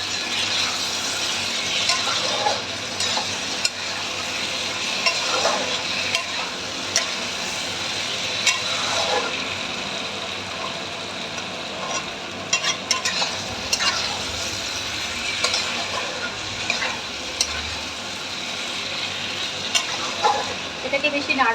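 Fried cauliflower pieces being stirred in plenty of oil in a pan, a steady close sizzle and crackle running throughout with repeated light scraping and clicking of the spoon against the pan.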